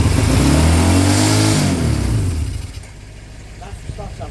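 Honda CB200 motorcycle engine freshly rebuilt with new piston rings, starting and revving hard, loud and close, with the revs swelling then dropping away as the engine falls back to a rough, uneven idle.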